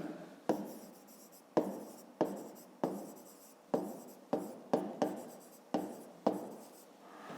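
Hand writing of a math solution on paper: repeated short pen strokes in uneven bursts, close and fairly quiet, with scratchy scribbles trailing off after each stroke and no voices.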